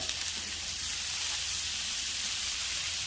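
Diced onions and pickled jalapenos sizzle steadily in hot butter in a pan, a constant bright frying hiss close up and fairly loud, with no talking.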